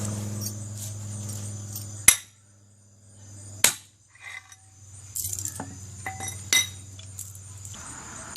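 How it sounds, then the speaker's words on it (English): Sharp metallic strikes ring out as a bearing is driven onto a 2007 KTM 65 SX dirt bike part, two loud hits and several lighter taps and clinks over a low steady hum. "So I think I can drive this bearing on myself."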